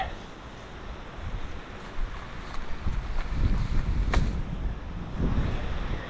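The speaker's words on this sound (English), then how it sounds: "Oh, it's great weather, it's wind." Wind gusts outdoors beside a canal in France, buffeting the microphone with a steady low roar that swells into stronger rushes partway through, with no one talking.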